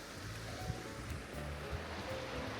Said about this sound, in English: We're just crossing the river that goes down into Ullapool